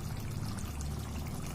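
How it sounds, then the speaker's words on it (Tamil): Coconut oil poured over a thick Kerala-style tuna fish curry gravy, a steady close pouring trickle lasting about a second and a half, with no talk. "இதுக்கு மேல கொஞ்சம் தேங்காய் ஆயில் அப்படியே ஊத்திக்கலாம்."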